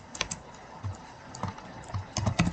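Keys tap on a computer keyboard as a heading is typed into a Jupyter notebook, quiet close clicks in small irregular clusters that quicken toward the end.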